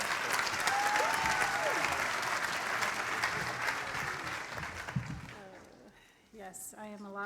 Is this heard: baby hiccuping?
no